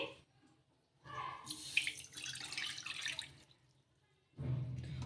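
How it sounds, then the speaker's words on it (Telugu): Water pours into a kadai for oats kurkure, a splashing stream in two bursts separated by a pause, fairly soft and close, with no talk over it. "ఒకటిన్నర కప్పుల నీళ్ళు అయితే తీసుకోవాలి"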